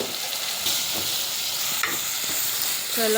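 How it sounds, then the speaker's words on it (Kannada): Tomato masala with salt, turmeric and chili powder sizzles and hisses steadily in a pan, with occasional scrapes and clinks of stirring near and loud throughout. "ಚಲೋ ಫ್ರೈ ಮಾಡ್ಕೋಬೇಕದು."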